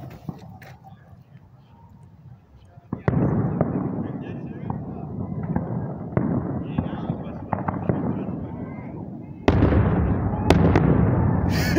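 Fourth of July fireworks going off outdoors in repeated booms and crackling bursts, some distant and muffled, others sharper and closer, with a few loud reports near the end and voices mixed in.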